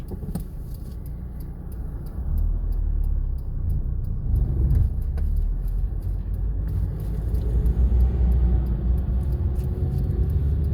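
A car pulls away from the right-hand kerb on a downhill road, its engine rumble rising steadily and staying loud and close as it gets moving.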